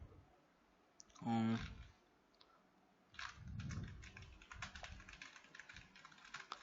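Someone types on a computer keyboard while writing JavaScript code. A brief loud knock comes first, then a run of rapid, close clicking keystrokes, with no voice over them.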